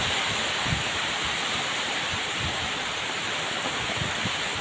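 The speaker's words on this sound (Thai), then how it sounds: "ทั้งลมทั้งฝนมาพร้อมกัน" Steady broadband rush of wind and rain, constant and fairly soft, with occasional low gusty buffets and no voices.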